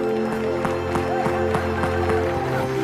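A church congregation claps in a steady rhythmic beat over sustained music tones, the regular claps landing about every third of a second.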